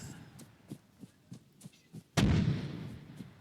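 Artillery fire in the Arma 3 military video game: a string of faint, regularly spaced low thumps, then one much louder boom with a long rumbling decay, heard without speech.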